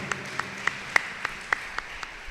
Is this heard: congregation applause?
yes